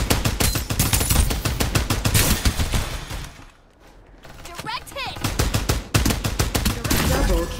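Rapid automatic gunfire in the Farlight 84 shooter game, loud bursts of shots with a short lull in the middle before firing resumes, with brief game voice lines mixed in.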